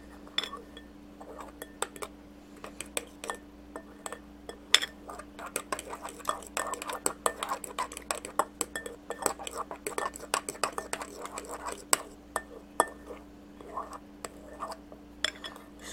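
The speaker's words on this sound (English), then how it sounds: "Mix it like you would be doing regular eggs." Metal cutlery repeatedly clinks against a bowl as eggs are stirred, a steady run of small sharp taps with quiet talk faintly underneath.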